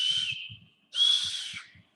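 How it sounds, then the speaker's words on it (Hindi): Two shrill toy whistle blasts, each held for most of a second with a brief gap between, loud and close, with faint low thumping beneath. "ऐसे बजाने वाली सीटियां भी"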